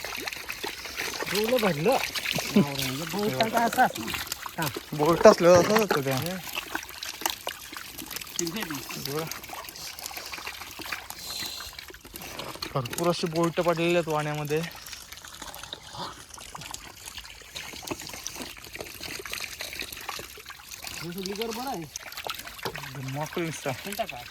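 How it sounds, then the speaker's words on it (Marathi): Water trickles and pours down from above into a fishing net set in a stream, the splashing running steadily beneath frequent talking voices throughout. "आता वरून पाणी येते थोडाफार"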